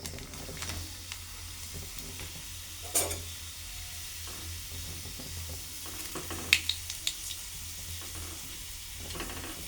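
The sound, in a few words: papadam frying in oil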